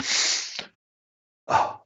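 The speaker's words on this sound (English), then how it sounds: "Oh, excuse me, I'm going to sneeze." One close, forceful sneeze bursts out, then after a short silence comes a brief breathy follow-up sound.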